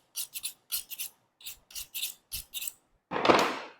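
A sharp knife trimming back fat from a pork loin, a series of short crisp slicing strokes in quick bursts, close and clear, ending in one longer, louder drawn cut.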